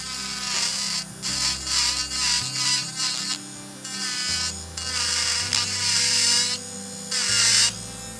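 Electric nail drill spinning a coarse bit at 10,000–15,000 RPM, grinding through polygel on a dual-form nail; a close, steady high whine that cuts in and out in short bursts as the bit touches and lifts.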